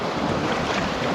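Big cross-chop waves slosh and rush continuously around a canoe on Lake Superior, mixed with heavy wind buffeting, loud and close.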